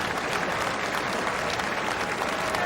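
Large stadium crowd applauding steadily at the 2007 World Athletics Championships in Osaka during the heptathlon, a dense continuous wash of clapping and cheering with no break.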